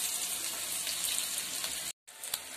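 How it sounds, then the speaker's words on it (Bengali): Potatoes with a pinch of turmeric frying lightly in hot oil give a steady, soft sizzle, close and continuous, with a brief break near the end. "এবারে আমি আলুগুলো একটু হালকা হালকা করে ভেজে নেব।"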